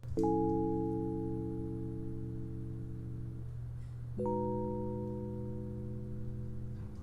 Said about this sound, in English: This is the E piano and it sounds like this by itself.